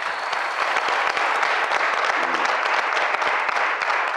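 A concert audience applauding loudly and continuously, a dense wash of many hands clapping close by throughout.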